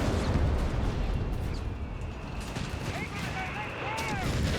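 Artillery fire in the WWII strategy game Company of Heroes 3, a dense rumbling barrage of shots and blasts with constant low booms, a battlefield din that carries on throughout.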